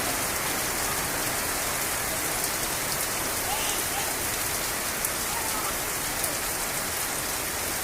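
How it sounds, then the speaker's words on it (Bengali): Steady rain falls in a continuous hiss, drops pattering on surfaces at moderate loudness, unbroken for several seconds with no talking. "বৃষ্টি রে বৃষ্টি বৃষ্টি"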